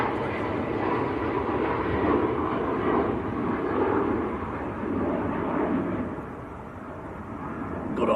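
A TUI passenger plane bound for Lanzarote roars past at Manchester Airport, a broad sustained engine rumble that swells and fades gradually over several seconds, with no talk.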